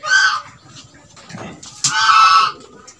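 Native village chickens in a raised coop, giving two loud clucking calls near the start and again after a short gap, with softer scratching and low clucks in between, close by.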